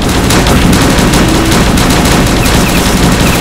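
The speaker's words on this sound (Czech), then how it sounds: "zkusíme s dělom strílet" Dense, continuous cannon fire in the video game UberStrike, loud and saturated, with rapid overlapping blasts filling the whole stretch and no talk over it.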